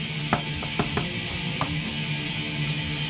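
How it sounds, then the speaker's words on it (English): A cat scratches in a litter box nearby, making a few sharp, irregular scraping scuffs over a low steady background. "That is the cat scratching the litter box."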